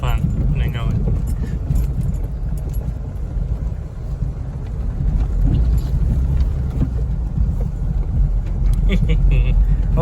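A cheap V6 Ford Mustang being driven, a steady loud low engine and road drone with wind rush throughout, someone talking over it.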